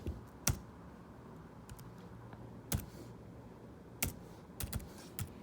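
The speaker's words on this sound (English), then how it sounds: "I'm having trouble typing this in because I'm trying to talk" Computer keyboard typing a student login, sparse keystrokes and short bursts of clicks spread over several seconds against a quiet room hum.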